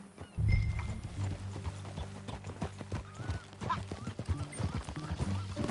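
Steady clip-clop of horse hooves, close and continuous, with faint snorts and background game sounds.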